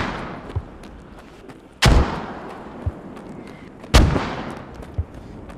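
Mortar rounds firing during a Squad match: two heavy, loud booms with long rolling tails about two seconds apart, plus a few softer distant thuds in between.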